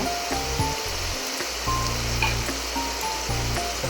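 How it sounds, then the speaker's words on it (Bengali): Triangular nimki dough pieces deep-frying in hot oil, a steady broadband hiss of bubbling oil running continuously with low hum underneath, fairly loud and close, no voices. "এগুলোকে এবার আমি ভালো করে ভেজে নেব"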